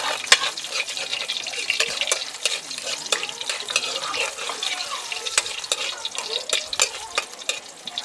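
Garlic sautéing in a frying pan sizzles steadily and close by, with frequent sharp scrapes and taps of a utensil stirring against the pan throughout and no talking.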